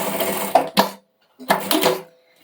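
A sewing machine stitches a bag strap in two short, close bursts of rapid mechanical whirring and clatter separated by a brief pause.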